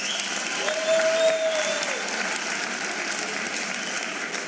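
An audience at a matric results announcement applauds the organizing team, a steady, even round of clapping with a brief tonal whine partway through.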